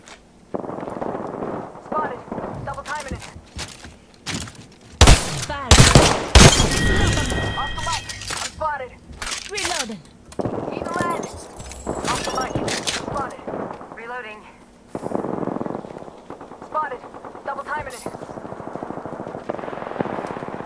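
Rapid bursts of video game gunfire crack through the scene, loudest and densest in the middle, with shorter volleys scattered throughout amid game voice callouts and effects.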